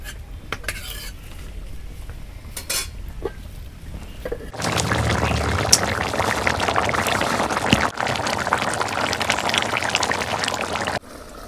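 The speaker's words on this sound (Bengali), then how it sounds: "এখন চলে পানি দিয়ে দিই" Metal clinks and stirring in a pot of beef curry give way to a steady stream of water poured in, a loud continuous splash lasting several seconds before it stops.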